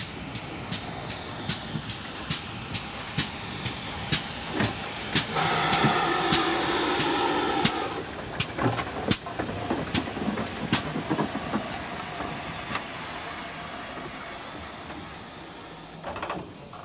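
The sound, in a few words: steam train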